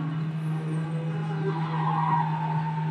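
A car pulls away with skidding, squealing tires, a steady engine hum running throughout and the screech rising midway, close by with no talk.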